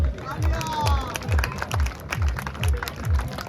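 Crowd clapping at a prize-giving ceremony after a cricket league final, a steady burst of applause with rhythmic low thumps running under it throughout.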